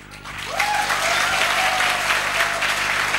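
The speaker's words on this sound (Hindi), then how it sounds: "तालियां थोड़ी कम लग रही हैं।" Audience applause at a college gathering in Mathura, a dense, steady wash of many hands clapping that holds from start to finish, fairly loud and close, with no talk over it.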